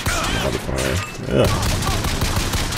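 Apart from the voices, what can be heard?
gunshots in video game Bioshock Infinite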